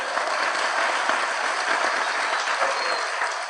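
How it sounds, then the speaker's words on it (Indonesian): Audience applause at an Indonesian religious sermon gathering, a dense steady wash of clapping from a large crowd that holds constant for several seconds, loud and without speech. "Tepuk tangan dong"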